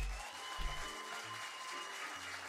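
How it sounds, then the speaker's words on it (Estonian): Studio audience at a live comedy show applauding as a comedian walks on stage, a steady wash of clapping with a few louder bursts near the start, carrying on evenly to the end. "Aga teeme hästi suurt kisa, lärmi, aplausi, oleme hästi soojata vastu."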